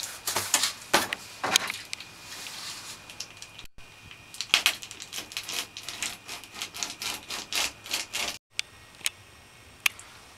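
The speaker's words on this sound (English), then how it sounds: "I'm going to cut this Reflectix off and then drill 4 holes" Rough scraping and cutting strokes through Reflectix reflective foil insulation on a van roof, irregular and close, broken by a couple of brief pauses, with sharp clicks near the end.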